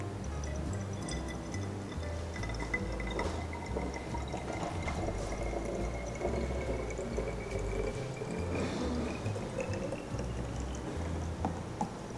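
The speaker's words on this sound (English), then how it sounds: "I'm gonna pour the drink inside this dill bulb" Mocktail poured into a bulb-shaped glass, a soft continuous trickle and light splashing of liquid, faint and close, with no voices.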